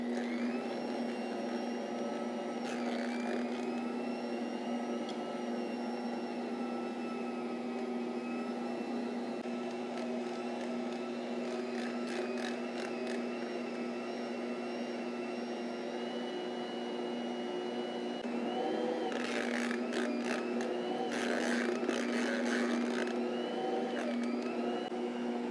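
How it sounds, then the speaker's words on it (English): Stand mixer running steadily while kneading chilled butter into croissant dough, a continuous motor whine with a strong steady hum, loud and close, with brief clattering bursts from the bowl partway through. "So we are gonna turn the mixer on."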